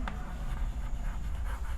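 Pen writing out a geometry proof about triangle areas, a steady close scratching that runs continuously with no voice.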